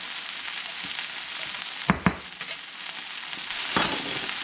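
Peppers and onions frying in a pan, an even close sizzle with a couple of sharp clacks near the middle and a brief swell of hissing toward the end, no talking.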